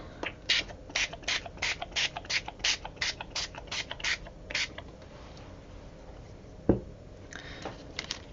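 A spray bottle hisses out about a dozen short, rhythmic bursts of gloss paint through a stencil in quick succession, then stops; a single clunk and a few softer sprays follow.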